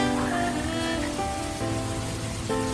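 Steady rain hiss falls on a surface beneath sustained musical tones, continuous and even across the short stretch.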